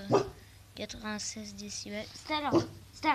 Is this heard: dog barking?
yes